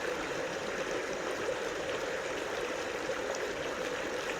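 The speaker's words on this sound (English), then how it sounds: "I love this creek." A snowy creek flows with a constant, even rushing and babbling close by, steady throughout with no voices.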